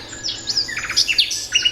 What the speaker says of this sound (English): this is just birds, I guess